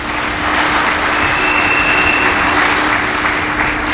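Conference audience at a political party gathering in Côte d'Ivoire applauding, a dense, loud, sustained wall of clapping with a faint steady tone underneath and no voices.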